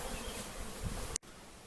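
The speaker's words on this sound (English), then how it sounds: "we got the bees in the bucket out of the tree, and they're gonna crawl into the hive" Captured swarm of bees in a bucket, a low, steady buzzing drone heard close and faint throughout, briefly cut by a sharp knock near the end.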